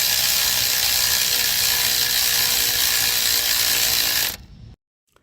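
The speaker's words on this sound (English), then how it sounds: "I moved into the turbocharger and then tightened this clamp gently." A ratchet tightening an exhaust clamp at the turbocharger of a 2021-on Ford Bronco Sport or 2020-on Escape during catalytic converter repair gives a steady, dense clicking for about four seconds, then stops abruptly.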